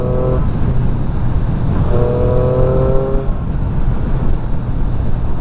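A Triumph 675 motorcycle engine running during a ride, a loud steady drone with a couple of brief rising rev tones over constant wind and road rumble.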